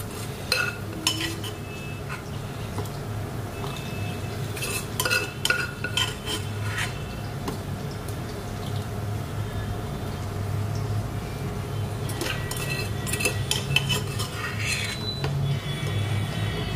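Fried vegetables being scooped out of a pan with a utensil, with repeated scraping and clinking of metal on the pan over a steady low kitchen hum, with no talking.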